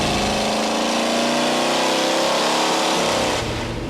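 A vintage engine revs hard on a dyno, a loud sustained roar with climbing harmonics that holds near full throttle before easing off slightly at the end.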